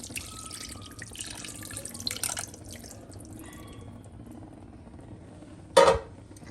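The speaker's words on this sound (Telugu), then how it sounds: "చింతపండు నానబెట్టే కదా ఆ పులుసు తీసి వేసుకోవాలి" Thick tamarind extract pours and drips into a pan for pomfret fish curry. The trickle is faint and close, with a louder splash near the end.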